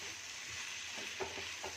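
Okra (lady's finger) sautés in a pan for a poriyal, giving a steady soft sizzle with faint stirring scrapes, quiet and continuous with no talking.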